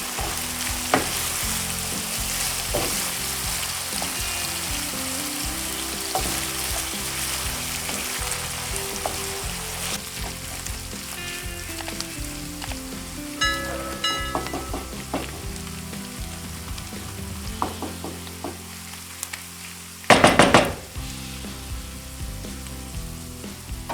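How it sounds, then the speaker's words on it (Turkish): Lamb mince and chopped onions fry in a pan in a continuous, close sizzle, with intermittent stirring scrapes and a brief louder clatter near the end. "600 gram kuzu kıymayı ve doğradığımız soğanları uygun bir kapta kavuruyoruz"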